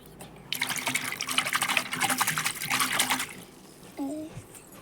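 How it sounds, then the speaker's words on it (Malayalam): Water splashes and pours in bursts for a few seconds, fairly close, then stops; a brief voice-like sound follows. "കുറച്ച് വെള്ളം നമ്മൾ ഈ പേപ്പർ സോപ്പിക്ക് ഒഴിക്കുക"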